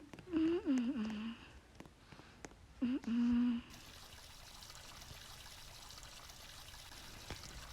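Running water during face washing in a Roblox game, a steady, moderately loud stream pouring continuously for several seconds after a brief spoken voice at the start.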